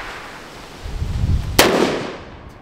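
A single sharp pistol shot from a Canik Mete MC9 cracks at an outdoor shooting range, a loud close broadband blast with a short decaying tail after some low rumbling handling noise.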